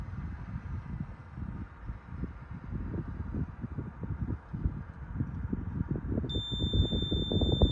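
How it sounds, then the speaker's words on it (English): A UAS Sentry Remote ID receiver sounds a steady, high electronic drone-alert tone that starts near the end, over continuous outdoor rustling and shuffling noise. "so the alarm will stay on for a little longer"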